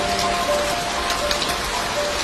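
Steady evening rain falls in Jonnagiri near Gutti, a dense even patter of drops on surfaces with no voices, constant and fairly loud throughout.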